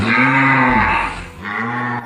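A buffalo bellows twice, long loud low groaning calls close by, separated by a brief pause.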